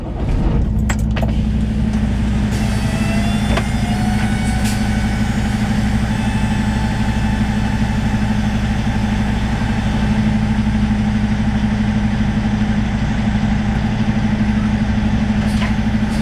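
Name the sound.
semi truck engine idling while backing up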